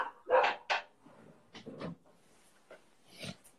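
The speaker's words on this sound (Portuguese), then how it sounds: "meu cachorro está latindo aqui" A dog barking indoors at some distance from the microphone, a few short muffled barks and yips spread over a few seconds, fairly faint.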